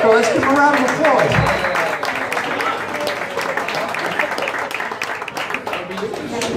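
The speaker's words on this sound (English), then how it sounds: "Let's give them a round of applause." Crowd at a basketball game applauding a youth basketball program, a dense wash of clapping from many people, with cheering voices and talk mixed in.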